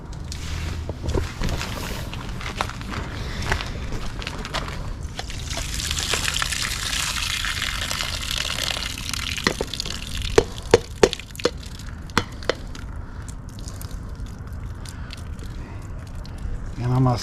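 Shredded potatoes for hashbrowns being rinsed in water, with running, splashing water and occasional sharp clinks under a person talking throughout.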